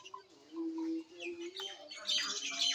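Birds chirp and call on a morning in a village, a few clear whistled notes and tweets from nearby, rising into a busier overlapping chatter of calls toward the end.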